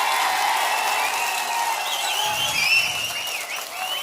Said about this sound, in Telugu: ఆశీస్సులు ఇస్తామని గట్టిగా చప్పట్లు కొట్టి మీరంతా కూడా ఇచ్చేయాలి